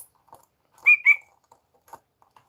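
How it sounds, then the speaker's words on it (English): A small injured bird kept in a box gives two bright, quick chirps close by, followed by a few faint, scattered peeps over near silence. "if you guys want to hear the bird"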